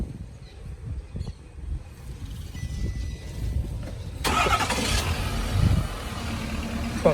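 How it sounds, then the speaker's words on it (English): A truck engine cranks and catches via remote start, the rumble swelling partway through and settling into a steady idle, heard nearby outdoors with no talk. "Truck started right up."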